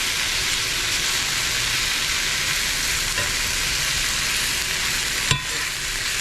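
Almonds and sesame seeds roasting in a frying pan are stirred, giving a steady dry sizzle and scraping hiss throughout, with one sharp clack of the utensil against the pan near the end.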